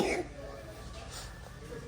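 A baby who still has a cough gives one short cough at the very start, followed by low room noise and faint voices nearby.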